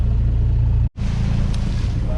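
Sailboat engine running at sea, a loud steady low drone that cuts out briefly near the middle and then resumes, with voices talking over it.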